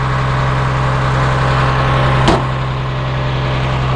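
A Cat C7 7.2-litre turbo diesel engine in a 2006 Blue Bird All American school bus idles steadily at close range, a low constant rumble with a brief sharp knock or clatter partway through.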